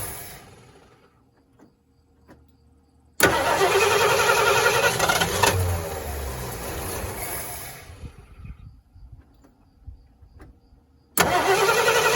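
A 1973 Ford Mustang's engine, left sitting for 12 years, cranks and fires with a sudden loud burst, runs roughly for several seconds and fades back toward quiet before catching loudly again near the end.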